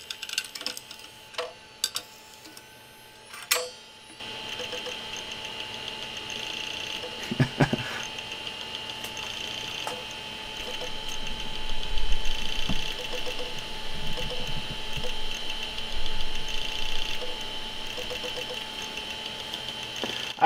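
Faulty Quantum Bigfoot hard drive with its head losing track, giving a spinning whir with irregular ticking and clicking seeks, close and fairly quiet, no talk.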